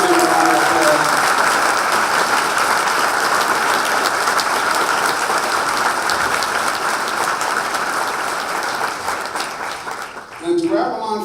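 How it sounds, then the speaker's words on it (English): Rally crowd breaking into sustained, loud applause and cheering that fills the hall, dense and continuous before tapering off near the end as a voice returns. "Let's give them a round of applause."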